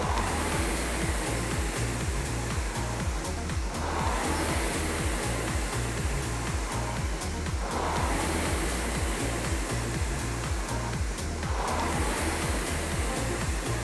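Rowing machine worked through steady strokes, a loud continuous whooshing rush that swells and fades roughly every four seconds with a rhythmic low rumble underneath, close and without talk.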